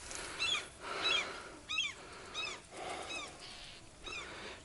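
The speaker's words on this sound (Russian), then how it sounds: "Чайки опять на меня ругаются." Gulls call and scold overhead near a taiga riverbank with low cliffs, sharp repeated squawking cries coming in bursts about every half second to second, fairly close and loud over a quiet outdoor background.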